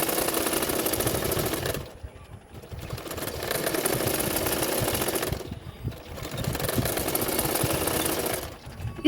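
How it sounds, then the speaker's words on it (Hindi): A sewing machine stitches the sleeves of a double katori blouse, running in long steady whirring bursts separated by brief pauses. "इस स्लीव में भी मैंने 2-2 स्लीव लगा दूंगी, मतलब 2-2 सिलाई कर दूंगी।"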